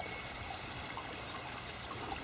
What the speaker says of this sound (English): There's water from this stream.